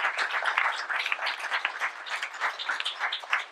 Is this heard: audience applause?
yes